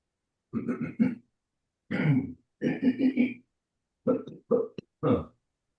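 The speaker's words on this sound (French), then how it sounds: "je me lève avec une petite toux le matin" A handful of short, rough morning coughs and throat-clearing sounds come in separate bursts with quiet pauses between them.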